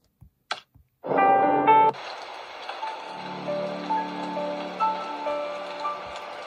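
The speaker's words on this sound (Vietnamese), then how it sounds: "Trời đang mưa rồi." Steady rain falls in the horror video game Slendrina 2D, a continuous wash of patter that sets in after a few sharp clicks, with soft tonal game sounds layered over it and no talking.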